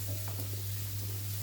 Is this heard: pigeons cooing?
no